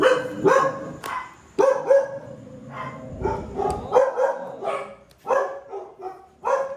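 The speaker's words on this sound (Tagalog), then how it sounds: "Mga aso mo, Boss D." Several dogs bark repeatedly at close range, with some drawn-out, howling yelps mixed in among the barks.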